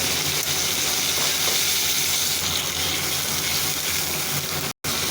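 A spice paste of ground onion, cumin and garlic with a little water sizzles loudly and steadily in a pan while it is stir-fried, giving a continuous close frying hiss with faint stirring.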